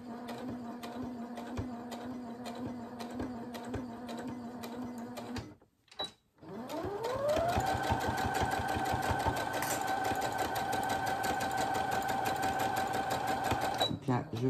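A sewing machine stitches fabric for a children's cloth drawing book, its motor whirring steadily with a fast needle rhythm. It stops briefly partway through, then starts again and runs on at a steady pitch.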